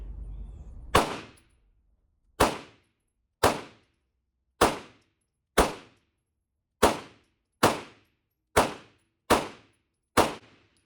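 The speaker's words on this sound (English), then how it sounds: "let's put some shots down range from a little bit longer distance, about 20 yards here" Springfield Echelon pistol fired at a 20-yard target: about ten sharp, loud shots spaced roughly a second apart, each with a brief decaying ring, no voices between them.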